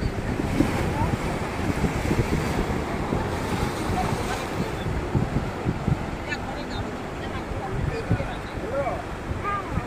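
Sea waves wash steadily at a seaside spot, a continuous broad roar mixed with heavy wind buffeting the microphone. Faint voices sit underneath.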